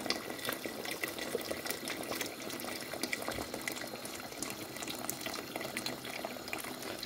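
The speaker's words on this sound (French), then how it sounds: "on va y ajouter de l'eau" Water poured into a pot of Moroccan couscous stew as it cooks, a steady, close splashing and bubbling that runs on evenly with no talking.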